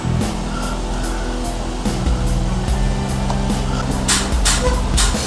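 New Range Rover Sport driving through the inside of a Boeing 747, a steady loud engine and road drone with periodic rattling knocks and clunks from the cabin, heard from inside the vehicle.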